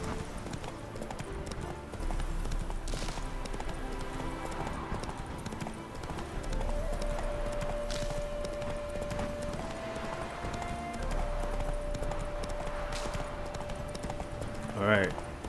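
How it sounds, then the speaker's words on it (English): Steady clip-clop of horse hooves trotting continuously in the video game The Witcher 3: Wild Hunt, with a voice talking over it and a brief whinny near the end. "Big old horses."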